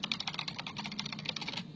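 Rapid typing on a computer keyboard, a fast run of light, close key clicks at an irregular pace, fairly quiet. No voices.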